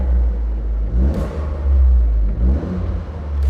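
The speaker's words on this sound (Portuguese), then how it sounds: "e escutem o ronco do carro" Toyota GR Corolla Core with a 1.6-litre turbocharged 304 hp engine revving, deep rumbling engine note that swells in two or three loud blips and settles back, close up and with no talk.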